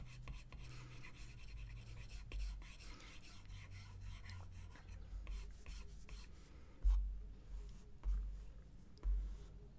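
Stylus pencil sketching on a tablet in Procreate, with fast loose strokes of varying pressure: a continuous close dry rasping and rubbing, with a few louder scratchy strokes toward the end.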